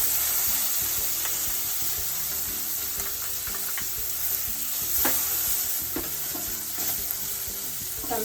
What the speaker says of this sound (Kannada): ಈಗ ಹೆಚ್ಕೊಂಡಿರೋ ಟೊಮೆಟೊ ಹಾಕ್ತಾಯಿದ್ದೀನಿ.